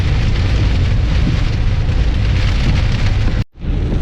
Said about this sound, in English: It's still raining, but there's lots of clear sky up there